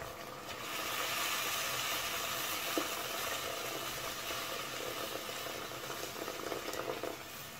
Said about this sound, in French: Je vais ajouter l'eau bouillante jusqu'à couvrir les morceaux de viande.